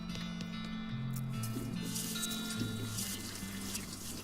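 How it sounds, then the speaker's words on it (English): A toilet flushes in the video game West of Loathing, a steady watery rush lasting several seconds under a tonal background of game music. "Ooh, toilet flushing."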